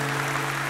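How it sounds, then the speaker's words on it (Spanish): An audience at a public municipal accountability event claps in a dense, continuous wash of applause, fairly distant and steady, under a constant low hum. "Recibámosle con un gran aplauso"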